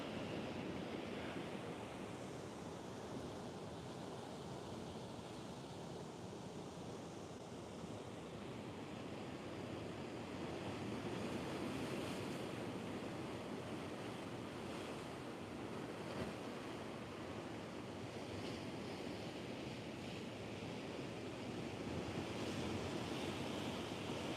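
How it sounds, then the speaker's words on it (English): Ocean waves crash steadily against the shore in a continuous broadband roar, with gusts of wind buffeting the microphone throughout and no voices. "You get to properly see the water crashing there against that"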